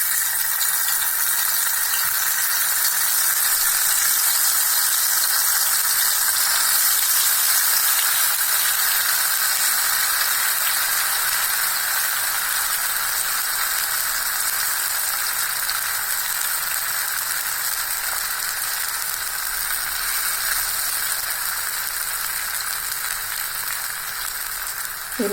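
Raw banana (vazhakkai) slices fry in hot oil, a continuous even sizzle and hiss that holds steady for the whole stretch with no voices.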